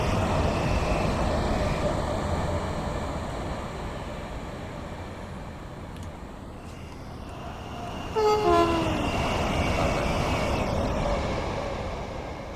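A Class 390 or Class 377 train on the WCML South line in Train Sim World 5 rumbles past in a flyby, with a steady roar that swells as it passes and a sounded horn partway through.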